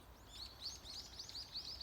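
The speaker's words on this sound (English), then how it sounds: "surely you will listen the seasonal bird, morning bird, evening birds." Small birds sing in a rural village, repeating quick high chirping phrases over and over across a steady outdoor background hum, moderately distant and fairly faint.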